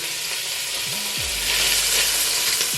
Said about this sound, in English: Just enough to coat the pan so I can brown my sausage